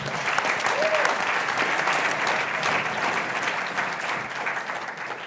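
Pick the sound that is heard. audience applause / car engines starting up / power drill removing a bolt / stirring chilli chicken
audience applause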